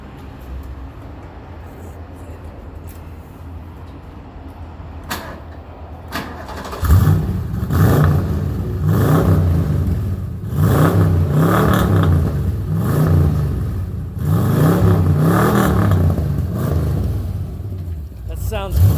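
A car fitted with a big 5.0 engine cranks and fires up at an outdoor car show, then barks through a series of sharp, loud rhythmic revs, with people talking nearby.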